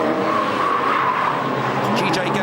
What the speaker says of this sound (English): Here's car number 58, Tony Houston.